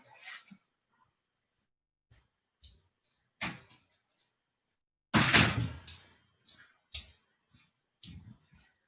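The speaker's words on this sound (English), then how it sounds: "I'm just going to shut the back door" A back door is shut indoors, giving a sharp, loud knock amid a series of fainter clicks and taps, with some quieter thumps before and after.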